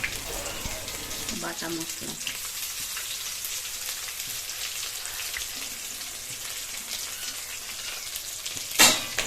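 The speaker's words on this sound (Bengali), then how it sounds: "পেঁয়াজ এবং বাটা মশলা খুব সুন্দর জল মানে গরম জলের মতো টকবক করে ফুটছে" Potato curry with onion and ground spice paste frying and bubbling in a pan, a steady soft sizzle and crackle throughout, ending with a brief louder clatter near the end.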